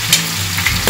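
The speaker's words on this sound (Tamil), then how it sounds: "வெங்காயத்தை வந்து கொட்டிட்டு அதையும் நல்லா அதோட கிளறி விட்டுக்கோங்க" Onions sizzle and crackle loudly in hot oil while making chicken biryani, a continuous close frying hiss with brief stirring scrapes.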